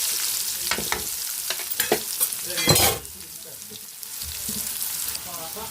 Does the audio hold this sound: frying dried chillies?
yes